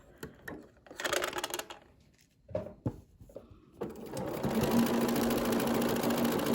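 A sewing machine stitches a Sawblade Star variation quilt block, starting with a few short bursts and small handling sounds, then running in a steady, close whir for the final seconds.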